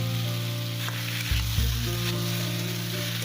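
Potatoes and taro corms (gathi kochu) sizzle steadily in a pan of hot oil for a hilsa fish curry, a continuous close frying hiss with a couple of brief bumps as the pieces settle, and no talking.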